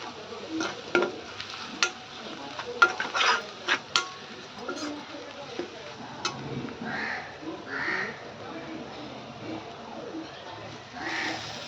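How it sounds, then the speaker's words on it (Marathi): Soft sizzling as ground coriander is sautéed in oil, with the scrape of a spoon stirring in the pan, occasional clinks and a voice talking over it. "आता हे तेलावरती छान परतून घेऊया"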